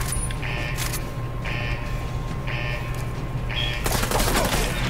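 Video game gunfire in Ghost Recon Wildlands: a steady rhythm of four evenly spaced bursts over a constant low rumble, then a louder rush of overlapping shots at the end.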